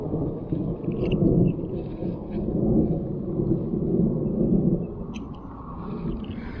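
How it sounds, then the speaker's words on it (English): Low, rolling thunder from an approaching storm rumbles on and off for several seconds, a steady deep roar without any voices. "Thunder's starting to get a tad bit closer."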